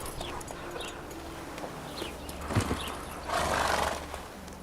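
A horse gallops in The Witcher 3: Wild Hunt, with rapid hoof clip-clops and a brief whinny against ambient game sound, rising into a louder rush near the end.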